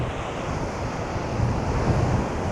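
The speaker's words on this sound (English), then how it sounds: "just taking in the sound of the waves" Sea waves break and wash steadily along the Jurassic Coast shore near Seatown and West Bay, a continuous close rushing surf with gusty wind buffeting the microphone and a slight swell in loudness toward the end.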